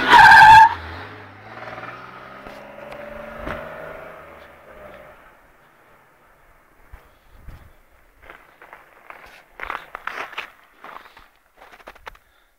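A Nissan Terrano with an RB25DE engine turns around outdoors, beginning with a loud burst that settles into a fading engine hum, followed by scattered crunching and gravelly scuffs from the tyres and footsteps.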